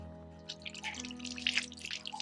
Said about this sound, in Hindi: ले हाथा पानी गिर दी थोड़ा।